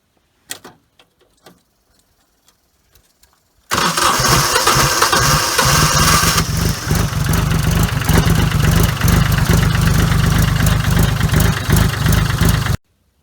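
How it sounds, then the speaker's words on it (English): A tractor engine fitted with a new DIY starter relay: a few faint clicks, then the engine catches and runs loud and steady at a rough idle for several seconds before cutting off abruptly. "I'll show you how it sounds when it tries to start with the relay."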